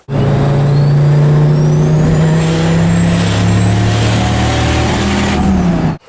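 An SRT10 turbo engine runs under load with a weak wastegate spring, a loud, close, droning roar that holds a fairly steady pitch and wavers slightly as boost surges.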